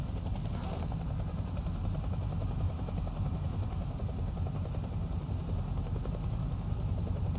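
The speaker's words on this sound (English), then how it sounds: "Goddamn helicopter." Helicopter in a survival video game, a steady low rotor drone with engine hum holding loud and constant throughout, no talk over it.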